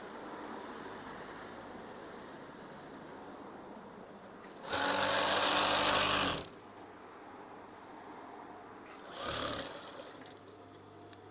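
A sewing machine stitches curtain fabric in two separate runs. The first is a steady whirring burst lasting about two seconds, and the second is a shorter one, each rising clearly above a quiet room hum.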